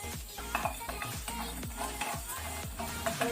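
Coriander seeds, fenugreek and a small cinnamon stick dry roasting and being stirred in a pan, with repeated scraping strokes and light rattling of the spices against the metal, steady and close.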